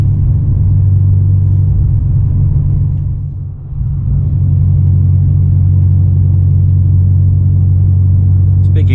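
A car cruises along Kingsford Smith Drive in Brisbane, heard from inside as a loud, steady low engine and road rumble with a brief dip midway, no talk.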